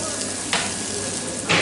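Meat sizzles steadily in a hot skillet for a beef stew, with a constant hiss and brief louder bursts as it is stirred or shifted.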